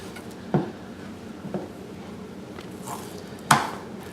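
A knife works at the thin silver skin membrane on a deer hind quarter, giving a few soft, sparse chopping taps and scrapes against a cutting surface, close and fairly quiet.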